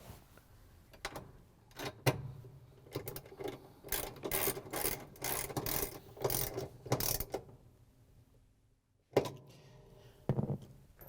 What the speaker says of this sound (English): we're going to use the 3/8" socket with the ratchet and the extension again to put the bolt in